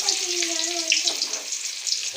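Cumin, mustard seeds and shallots sizzling in hot oil for a brinjal and dried-fish curry, a dense bright crackle with seeds popping, close and steady throughout.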